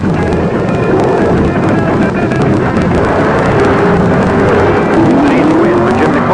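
Drag racing cars pairing off in a first round elimination at the strip, giving a loud, continuous, close engine roar that holds steady with a slight rising whine.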